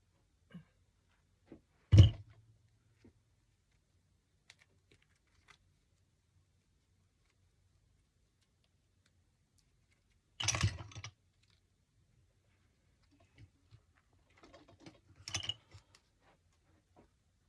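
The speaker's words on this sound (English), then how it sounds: "use my pick machine and see if I can pick it" A floral pick machine clamps metal picks onto small artificial grapevine leaves, giving three separate sharp mechanical clunks and crunches spaced across otherwise quiet stretches, the first loud and the later ones softer.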